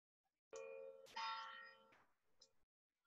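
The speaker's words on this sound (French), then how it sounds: "C'est la cloche qui sonne pour dire qu'il faut arrêter." A ringing bell sounds two overlapping metallic strikes that bloom into a sustained, shimmering tone and then fade, followed by a softer final clang, with nothing else in the background.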